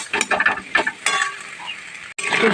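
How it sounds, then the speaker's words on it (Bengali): Masala being sautéed and stirred in a pan for a Bengali fish curry, with a close sizzle, scraping spoon strokes and clinks against the metal in uneven bursts, broken by a brief pause. "এরপর আমি এখন ভালো করে একটু কষিয়ে নিচ্ছি"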